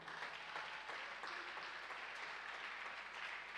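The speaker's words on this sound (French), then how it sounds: "On peut acclamer cette parole." A church congregation claps in a steady, dense round of applause that stays even throughout, faint and somewhat distant, with no talking.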